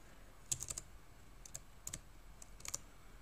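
Fingers type a name on a computer keyboard while installing Ubuntu, giving a quiet scatter of light key clicks in short, uneven bursts over a faint background hiss.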